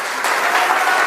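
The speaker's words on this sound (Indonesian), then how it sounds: "Berikan sorak-sorai buat Tuhan." A church congregation in Mentawai, Siberut, cheers and applauds in praise, a dense, steady wash of clapping and voices that swells after a brief quieter start and holds loud throughout.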